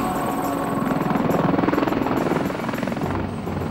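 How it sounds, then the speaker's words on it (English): Low-flying Apache attack helicopters over Afghanistan during combat against al-Qaeda forces, with loud, continuous rotor chop and a throbbing engine drone that swells and then eases slightly. "Above, low-flying Apache helicopters pound al-Qaeda forces."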